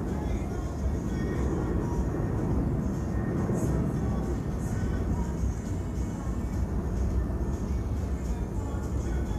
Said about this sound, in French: Donc, les avions, quand ils passent, j'ai l'impression que c'est chez moi ici